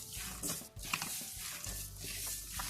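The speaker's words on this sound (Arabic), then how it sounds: "وهذا الزيت غندخلو مزيان في هذه العجينه بحال هكا" Oil is worked by hand into traditional Moroccan mahrash dough made with coarse semolina and homemade yeast, giving quiet, close, wet squishing and slapping with a few soft pats, and no voice.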